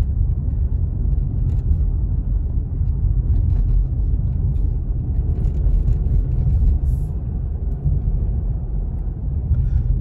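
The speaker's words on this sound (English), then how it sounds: "Gosh, this car has so much power." A turbocharged Subaru climbs a mountain road toward snowy Big Bear Lake, California, its engine a loud, steady low rumble with wind and road noise that holds without letup.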